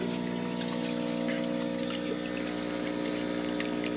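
Aquaponic farm water flowing up through a pipe and back, a continuous close trickling and gurgling over a steady pump-like hum, even throughout with no talk.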